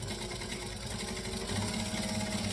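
A sewing machine runs steadily while back stitching a seam on a cord, a continuous close whirring hum that grows slightly louder partway through.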